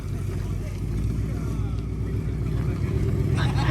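A stock 2019 Ford Mustang GT with a 10-speed, 3.15 gearing, headers and E85 idles loud and lumpy after a cold start in a dyno shop, a steady deep rumble throughout.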